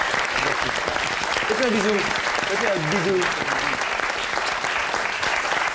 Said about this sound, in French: je voudrais qu'on applaudisse Alain